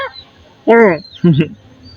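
A parrot imitates a crow's caw, giving two short, harsh calls, each about a third of a second, separated by a pause, close and fairly loud.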